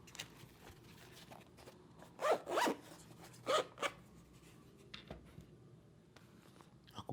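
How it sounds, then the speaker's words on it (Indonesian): Plastic packaging crackles in a few close, sharp bursts while a Hollyland Lark M1 wireless mic is handled, with quieter faint rustles between and no talking. "Kayaknya bunyi plastik ini juga bisa kedengeran ya"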